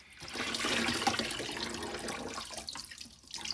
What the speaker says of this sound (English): place it into the water, let the water soak in